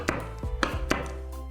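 A knife cuts through sponge cake into small squares on a board, three or four close, soft chopping taps in an uneven rhythm against a steady low hum.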